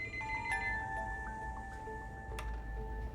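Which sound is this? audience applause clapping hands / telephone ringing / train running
telephone ringing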